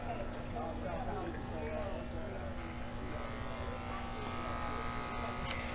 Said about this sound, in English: I love nothing better than a fresh cut and shave.